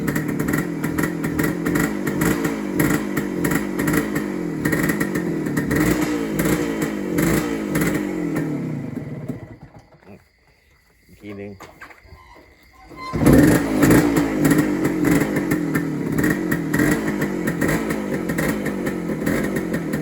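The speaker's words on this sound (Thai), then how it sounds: "เครื่องมันเย็นมันต้องดึงโชคทิ้งไว้ก่อน" A cold motorcycle engine runs with the choke pulled, giving a loud, close, steady putter that cuts out briefly near the middle, then fires up and keeps running.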